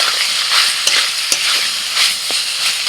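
Chicken stirred and fried with ginger, garlic and onion, a steady close sizzle with scraping stirs and small knocks of the spoon against the pan.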